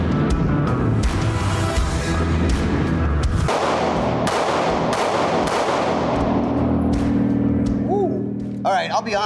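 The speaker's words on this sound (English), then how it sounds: "those are my first shots out of this gun" Rapid pistol shots from a SIG Sauer compensated handgun on a shooting range, a string of sharp loud cracks fired in quick succession with ringing decay, ending in a lull with faint chirps.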